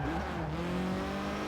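A race car in a racing video game driven with a steering wheel: a steady, loud engine drone with shifting tones and a hint of tire squeal, continuous throughout with no talk.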